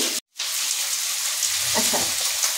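Onions frying in a pan over a high gas flame for chilli paneer, making a loud, dense, continuous sizzle close up, broken by a brief silent gap near the start and a few soft stirring scrapes later.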